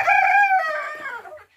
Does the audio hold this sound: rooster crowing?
yes